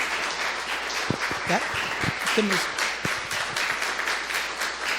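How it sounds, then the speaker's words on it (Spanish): A church congregation claps in praise of Jesus Christ, a moderate patter of many hands under scattered voices and a brief spoken question. "¿Le podrían dar un aplauso al Señor Jesucristo?"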